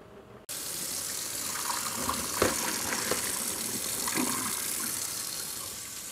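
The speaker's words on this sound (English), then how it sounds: "The noodles have finished cooking and I'm going to drain them now." Water suddenly starts gushing and keeps pouring steadily, like a strong stream into a sink, with occasional clinks, as cooked noodles are drained.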